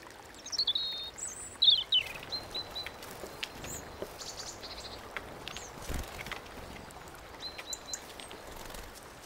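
Small birds such as a blackbird and a tit call from a hedgerow in bocage countryside, thin high chirps and short whistled phrases scattered over a faint steady outdoor hiss, clearest early on.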